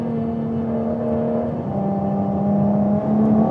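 A Ferrari F12tdf's V12 engine revs hard on the Fiorano track, a loud sustained tone stepping up through the gears with no talk over it.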